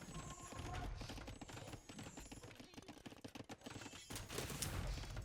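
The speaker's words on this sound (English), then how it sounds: "Actually getting some really nice scorpion shots there." Scorpion siege weapons firing in Age of Empires II: a dense, steady volley of rapid clicking and thudding shots, like a fusillade, mixed with clattering battle sounds and no talk.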